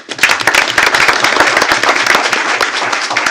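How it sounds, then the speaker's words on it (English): Loud, dense applause from a sizable crowd at a school board meeting, steady throughout with sharp overlapping claps close by. "Let's give him a round of applause."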